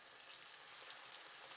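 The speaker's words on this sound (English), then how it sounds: "Fry the spring rolls for 5 minutes." Spring rolls frying in hot oil in a home kitchen, giving a steady, faint bubbling sizzle that holds evenly throughout with no talking.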